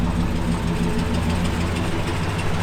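A 1966 Chevrolet Caprice with an upgraded exhaust idles steadily, a deep, even rumble with a low throb that holds constant and close, with no voices over it.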